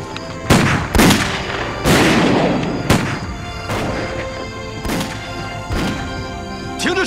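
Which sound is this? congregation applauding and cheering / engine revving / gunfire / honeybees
gunfire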